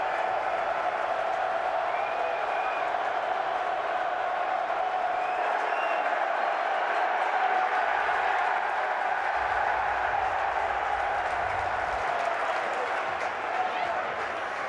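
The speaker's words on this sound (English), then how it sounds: "How about this crowd?" A home football stadium crowd at a Seattle Dragons versus St Louis Battlehawks game keeps up a loud, sustained roar of cheering and shouting that fills the whole stretch without letting up.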